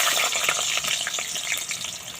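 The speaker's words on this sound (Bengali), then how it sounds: "প্রথমে আগে আলুটা ভেজে নেব।" Potatoes frying in hot mustard oil, a loud, close, steady sizzle with no pauses.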